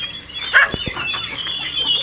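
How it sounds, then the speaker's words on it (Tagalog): Hens cluck on a farm in short, scattered calls, one louder squawk rising briefly above a steady background of poultry noise and faint rustling. "Ito yung magaganda natin mga inahin mga kabrad."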